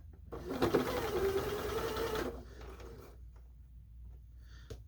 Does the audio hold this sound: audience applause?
no